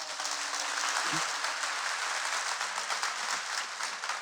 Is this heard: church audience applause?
yes